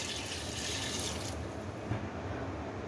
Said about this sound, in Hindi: 1 गिलास के करीब पानी।